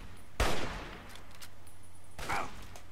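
Two gunshots in Fallout 3, sharp and fairly distant, about two seconds apart, over quiet game ambience.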